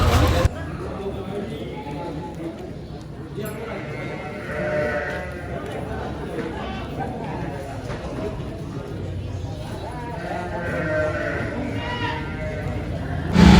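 Garut sheep bleat repeatedly at a busy outdoor sheep market, the calls rising over constant crowd chatter and someone talking close by.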